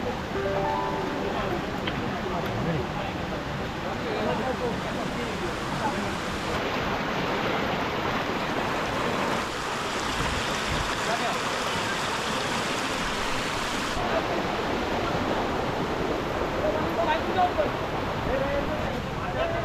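A small stream at a monsoon trek water crossing near Devkund Waterfall rushes steadily, with a loud, unbroken hiss of flowing water throughout and a voice faintly present beneath it.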